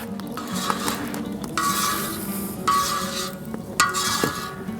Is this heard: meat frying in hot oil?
yes